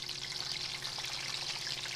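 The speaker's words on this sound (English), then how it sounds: "They're going to sizzle all over the place." Peppers dropped into a hot pan for cacciatore, frying with a steady, dense crackling sizzle that stays close and even throughout, with no talking over it.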